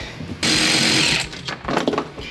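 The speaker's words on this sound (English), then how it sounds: "maybe if I just sharpen the tip of one of these, it would go in. Let me go do that on the grinder" A bench grinder grinds the tip of a metal parking brake part from a Foxbody rear disc conversion, giving a loud harsh rasp for about a second, followed by rougher, uneven grinding bursts.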